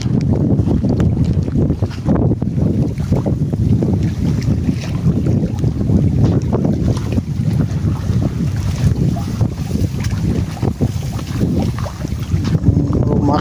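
Choppy waves slap against a small fishing boat while strong wind buffets the microphone, a loud, continuous rushing roar of wind and water with no one speaking.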